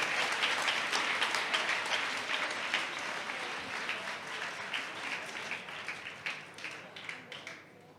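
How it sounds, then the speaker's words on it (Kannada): Sustained audience applause at a cultural meet, dense and steady for the full length and slowly thinning toward the end, with no talk over it. "ದಯವಿಟ್ಟು ನೀವೆಲ್ಲರೂ ಕೂಡ ಒಂದು ಜೋರಾದ ಚಪ್ಪಾಳೆಯ ಮೂಲಕ ನಮ್ಮ ಕಾರ್ಯಕ್ರಮ ಯಶಸ್ವಿಯಾಗಿದೆ ಅಂತ ಹೇಳಬೇಕು"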